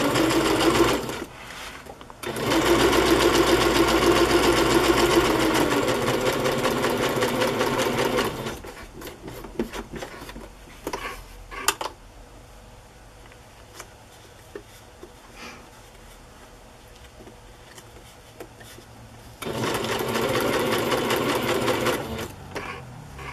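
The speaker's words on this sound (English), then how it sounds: "I have this triangle shaped feed sack fabric piece, and somehow I'm going to sew it on there." A sewing machine stitches a triangle of feed sack fabric onto a chocolate-themed journal, running loud and steady in long bursts at the start and end, with a quieter stretch of handling clicks and fabric shuffling between.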